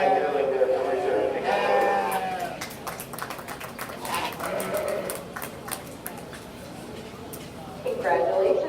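Sheep bleat repeatedly at a 4-H sheep and goat show, several wavering calls rising and falling over the steady murmur of a crowd, with an announcer talking through much of it.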